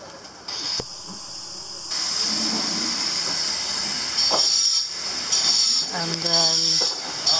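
Sugarcane juice boils in a series of open vats while being made into jaggery in Hassan, India, giving a loud, steady steamy hiss and bubbling, with someone speaking briefly over it.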